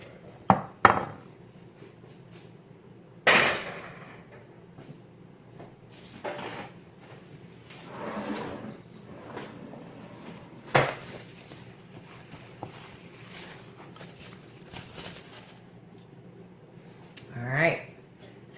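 A spoon and dishes handled in a home kitchen while serving Moroccan harira soup: a few sharp clinks and knocks spaced several seconds apart, close by, with quiet room noise in between.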